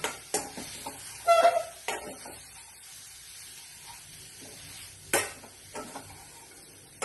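Chili powder and salt are stirred into a hot frying dish on the stove, with brief scraping and sizzling bursts against a quiet background and two sharper clatters midway and near the end.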